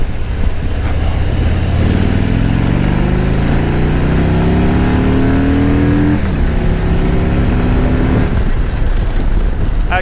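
A 2020 Harley-Davidson Road King motorcycle accelerates hard up a freeway on-ramp, its engine note climbing steadily through the gears in loud, close, rising sweeps, dropping briefly at a shift before pulling strongly again.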